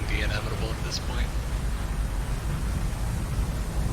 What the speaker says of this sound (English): I like the sounds of the rain.